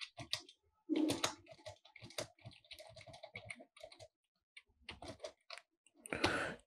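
Code being typed on a computer keyboard in the Turbo-C environment, close bursts of quick key clicks separated by short pauses, with a denser flurry of keystrokes near the end.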